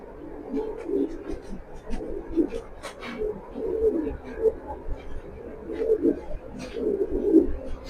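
Racing pigeons, a female among them, coo repeatedly nearby in soft throaty, rhythmic phrases throughout, with scattered light chirps.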